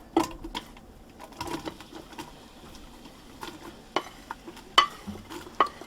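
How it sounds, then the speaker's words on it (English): Onion and garlic sizzle faintly in a Ninja Foodi pot, with scattered scraping and stirring clicks from a utensil at close range. "you should hopefully start to hear it sizzle"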